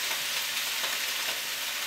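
Carrots, mushrooms and garlic stirred in a hot pan alongside green peppers, a steady close sizzle with soft scraping, continuous and even with no voices.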